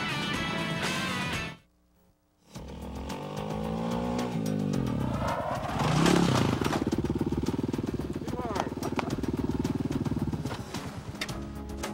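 A ten-year-old rider on a motocross motorcycle, the engine droning and revving close by and loud, cut by a brief silence, then rising again while a voice talks over it.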